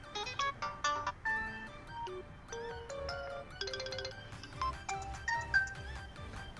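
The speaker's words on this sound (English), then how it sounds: "Let's go to sounds. Ringtones." A quiet, chiming electronic ringtone melody plays continuously from a Realme Q3i phone, with quick bright notes and short repeating phrases.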